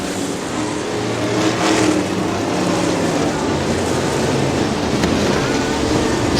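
410 open wheel sprint car engines roaring at Butler Battlegrounds dirt track in Quincy, Michigan, a loud continuous wall of engine noise with surging revs, heard from the grandstand without speech.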